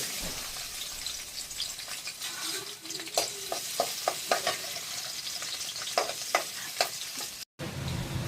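Garlic frying in about two tablespoons of oil in a kadai for creamy white sauce veg pasta, a steady close sizzle broken by sharp clicks and scrapes of stirring, with a brief dropout near the end.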